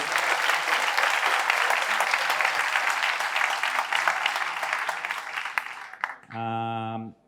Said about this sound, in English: Can you also give them a big round of applause, please?